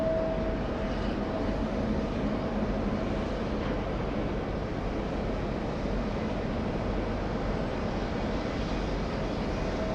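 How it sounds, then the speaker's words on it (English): Aircraft engines spool up at an airport, heard from a distance as a steady low roar and broad rumble with a faint whine above it, unchanging through the clip. "we have an aircraft starting up right here, right below us"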